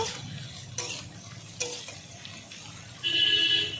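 Chopped tomato and whole garlic cloves sauté with amodi fish and potato in a quiet pan sizzle, with a few stirring knocks, and a brief running-water sound near the end.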